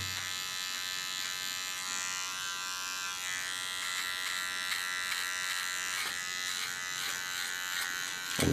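A small electric hair clipper buzzes steadily and close up as it trims hair during a salon cut, its whine holding a constant pitch with a few slight shifts and a brief click at the end.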